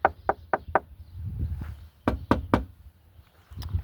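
Knuckles rap on the plastic body panel of a 1980s car: a quick run of four hollow knocks, a pause with soft handling noise, then three more sharp raps, close and distinct.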